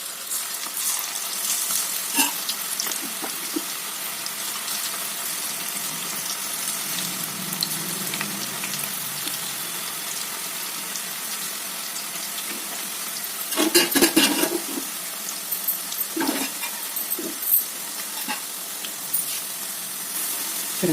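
Food fries steadily in oil in a pan on a stove, a constant close sizzle that swells briefly with a burst of stirring partway through before settling back to an even hiss.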